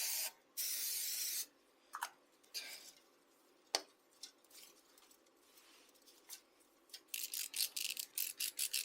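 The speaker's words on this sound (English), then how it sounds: "Some silicone spray." Silicone spray hisses from an aerosol can in a car engine bay during an intercooler install on a 3SGTE engine swap, one long close burst at the start, then scattered clanks and handling noises before a run of short sprays at the end.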